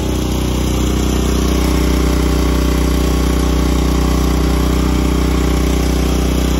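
A softwash pump engine idles loudly and steadily up close, a continuous even drone with no pauses or talk.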